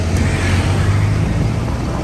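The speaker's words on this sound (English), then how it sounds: "You can see a tuk-tuk." A tuk-tuk motor rumbles through Chiang Mai traffic, a close, steady low drone with slight rises and a faint engine swell, heard alone without talk.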